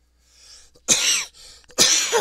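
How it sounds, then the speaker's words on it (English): A person with a head cold gives two harsh, loud coughs close to the microphone, each a rough burst with a short quieter breath between them. "That's terrible. A terrible cough."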